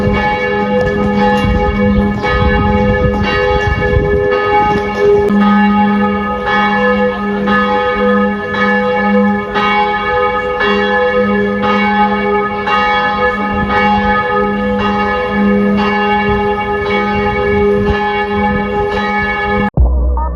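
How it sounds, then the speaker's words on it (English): Church bells at Kartause Ittingen, Switzerland, ring loudly and continuously, their overlapping tones sustained and resonant, before cutting off abruptly at the end. "Let's go listen to some church bells."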